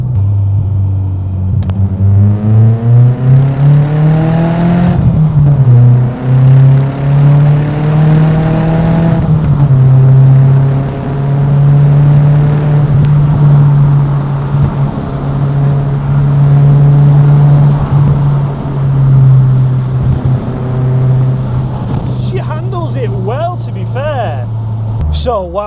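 MK2 Golf GTI with a swapped-in Audi S3 engine driving a twisty road, its engine droning loudly and rising in pitch through the gears, then settling into a steady cruise before a few sharp bursts near the end.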